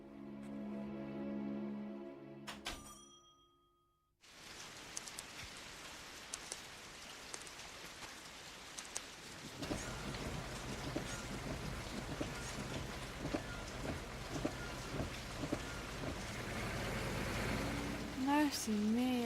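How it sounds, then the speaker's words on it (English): Steady rain pattering on a surface, a dense hiss with scattered drops, after a brief quiet gap; a faint tonal sound appears near the end. "it's raining."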